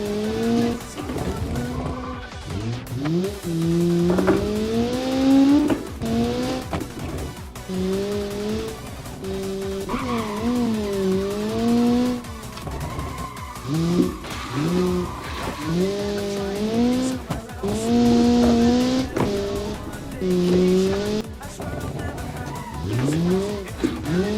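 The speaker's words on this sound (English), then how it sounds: "Tricky corner. Deltaz got a bit of a slide." In the Automation racing game on an Italian touge mountain road, race car tires squeal repeatedly as the cars slide through tight corners, rising and falling over a droning engine, loud and close.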